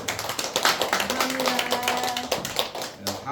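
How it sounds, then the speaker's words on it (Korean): A congregation at a Palm Sunday church service applauds in a quick, dense flurry of claps, with a voice briefly heard under it. "박수."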